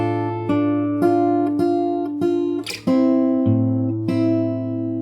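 A fingerstyle guitar plays the full opening phrase of The Last Of Us 2 main theme, a steady series of about eight plucked notes and dyads with a brief string squeak midway, close and clear.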